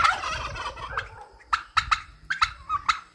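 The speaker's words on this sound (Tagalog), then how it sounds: "Ingay ng pabo. Ayan, o." Turkeys gobble in several quick, rattling bursts close by, one after another, with no talking.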